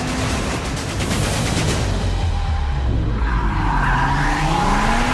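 An Audi RS3 five-cylinder car driven hard through sand, a loud continuous roar of engine and churning sand with shifting tonal whines.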